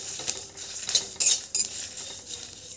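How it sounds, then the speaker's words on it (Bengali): Whole spices and dried chillies are dry-roasted in an oil-free pan, stirred with a utensil that gives a few light scrapes and bright metallic clinks over a faint background, with no voices. "শুকনো খোলায় মশলাগুলোকে আমি ভেজে নিচ্ছি একটু"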